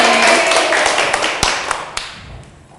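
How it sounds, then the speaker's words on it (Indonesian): A classroom applauds a student during a micro-teaching lesson. Several hands clap in a quick, close burst that thins into a few separate sharp claps and dies away within a few seconds. "Tepuk tangan buat Dek Wahyuni."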